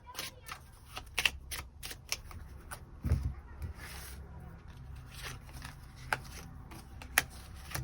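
Tarot cards being shuffled to draw extra cards produce a scattered series of close, crisp riffling clicks and soft flicks at an irregular rhythm, with one duller thump near the middle.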